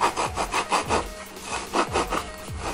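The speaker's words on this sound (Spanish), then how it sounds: "Tomamos el pan y lo cortamos" A knife saws back and forth through a bread roll, giving rhythmic raspy crunching strokes, close and clear, about six strokes in under three seconds with no talking.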